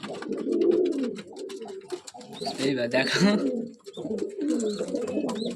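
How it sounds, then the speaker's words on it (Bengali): A male pigeon of a long-bodied Kalchira breed coos repeatedly at close range in low, rolling phrases, with brief bird chirps and some background noise in between. "এটা নর পায়রা"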